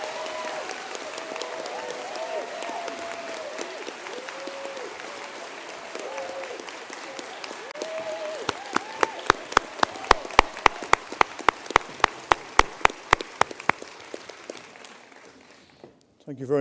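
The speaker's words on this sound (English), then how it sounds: "I'd like us all to give our graduates now from the social care practice a round of applause" An audience at a university conferring ceremony applauds social care practice graduates, starting as a soft mass of clapping under speech, then shifting to a run of sharp, evenly spaced individual claps before dying away.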